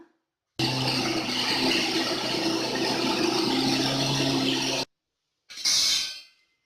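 A mixer grinder grinding drumstick-leaf chutney makes a loud, steady mechanical whirring drone for about four seconds, stops abruptly, then a shorter burst follows after a brief pause.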